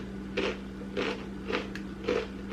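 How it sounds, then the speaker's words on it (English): Someone bites into a crunchy cauliflower snack, four separate crisp crunches spaced about half a second apart, close to the mic and moderately quiet over a low steady hum. "Do you hear that crunch?"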